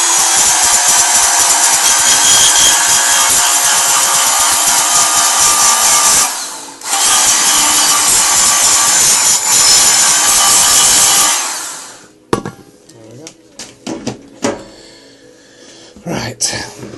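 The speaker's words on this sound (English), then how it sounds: "I'm also going to give this a bit of a sand" Sanding a drilled section of a homemade MK3a Jack Flask hobo stove, a steady loud abrasive rasp running for about twelve seconds with a brief pause, then a few scattered light scrapes and knocks.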